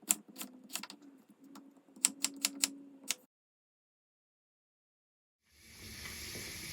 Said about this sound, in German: Dazu lege ich ihn mit der flachen Seite auf ein Brett und schneide ihn, wie gezeigt, in etwa 1 cm große Stifte.